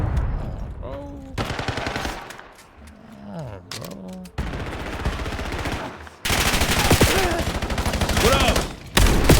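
A shotgun fires in a first-person shooter game. Loud dense bursts of rapid gunfire come in clusters, broken by quieter gaps with growling creature-like sweeps.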